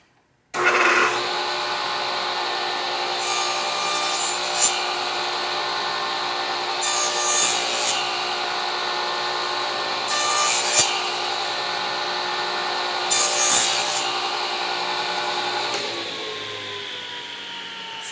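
A saw blade cuts a partial-depth miter in wood, set low with little blade exposed. A steady, loud whining cut runs for about sixteen seconds before the motor winds down.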